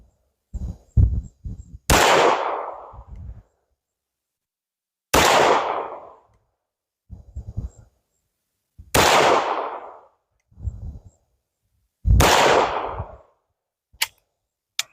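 Four sharp .22 pistol shots at an Olympic-style shooting session, each a loud crack with a ringing decay, spaced a few seconds apart, with quieter clicks and handling knocks in between.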